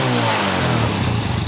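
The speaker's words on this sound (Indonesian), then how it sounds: "ketika motor langsung hidup itu langsung dipeker kayak ini." A motorcycle engine revs up hard immediately after a cold start, a steady loud buzzing drone held at high revs throughout, close and alone with no talking.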